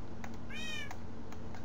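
A Siamese cat in Minecraft gives a single short, rising-and-falling meow over a low, steady background hum.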